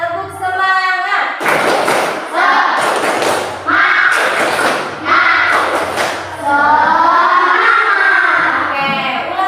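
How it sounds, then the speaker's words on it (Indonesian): A class of children performs the rhythmic 'tepuk semangat' spirit clap, loud, close bursts of clapping and thumping in patterned groups, with children's voices chanting along between the beats. "Tepuk semangat."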